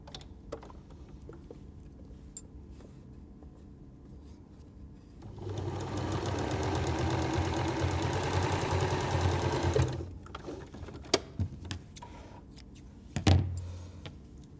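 A sewing machine stitches a patchwork quilt seam for a beginner flower block. The steady, rapid mechanical whirr runs for about five seconds between quiet handling noises and light clicks.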